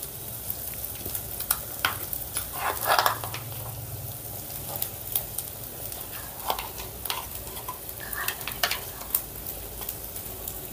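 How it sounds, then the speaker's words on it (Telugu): Prepared spice paste for a vegetable masala curry frying in a pan, a continuous sizzle with scattered sharp ticks and pops and occasional stirring scrapes, heard up close without speech. "ఇప్పుడు ఇందులోనే మనం ముందుగానే ప్రిపేర్ చేసి పెట్టుకుని పేస్ట్ కూడా వేసుకుందాం"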